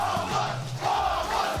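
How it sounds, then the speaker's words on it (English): A home crowd of esports fans in an arena in Berlin, Germany, screams a team's name at a Counter-Strike championship semi-final, a loud, sustained massed roar that swells in waves throughout. "the Mongols have got their fans screaming their name right now"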